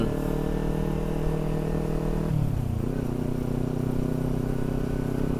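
Motorcycle engine ticking over at low RPM, a steady close hum whose pitch drops and settles partway through, then stays even.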